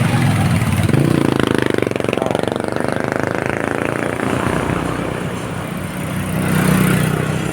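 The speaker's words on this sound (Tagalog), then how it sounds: "Kita nyo yung truck." A truck rumbling along the heavily potholed Maharlika Highway in Calauag, Quezon, its engine droning steadily and close by, the noise swelling again near the end.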